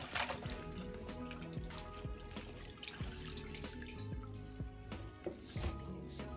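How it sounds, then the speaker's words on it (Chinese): Freshly washed Chinese cabbage drains in a kitchen, a steady wet trickle with scattered drips running the whole time at moderate level, with a tonal background bed underneath. "一定要多清洗幾遍，至水清亮後再撈出控乾水分。"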